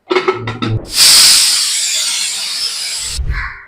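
Pressure cooker whistle on a kitchen stove, cooking rice and stock, gives a loud sustained hiss of escaping steam for about two seconds after a few brief clatters, then cuts off abruptly.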